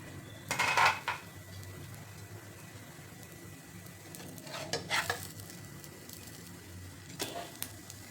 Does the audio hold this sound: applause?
no